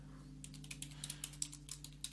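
Fingers tap a command on a computer keyboard while installing VirtualBox on Linux, making quick, light, close clicks in an uneven rhythm over a low, steady computer hum.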